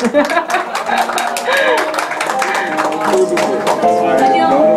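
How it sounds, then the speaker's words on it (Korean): Audience clapping at a book concert in Korea during a gift presentation, a steady moderate patter of hands mixed with murmuring voices and some laughter throughout. "큰 박수로."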